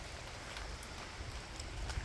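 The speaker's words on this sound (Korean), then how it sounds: "어, 비 주룩주룩 옵니다." Heavy rain pours at night on a rural paddy-field road, a dense, steady hiss with scattered patters, heard from inside a moving vehicle at low level.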